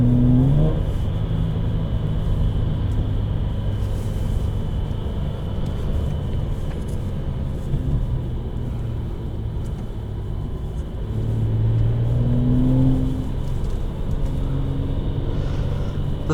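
A 2017 Jaguar XE 35t Premium with a supercharged engine cruises at a steady, fairly loud drone, its low exhaust rumble and engine hum holding even with brief tonal rises near the end, no voices over it.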